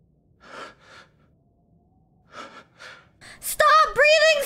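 Heavy, loud breaths and gasps from a player crouched in hiding in the horror game Resident Evil Village, a few quiet puffs, then sharp, strained voiced gasps at the end.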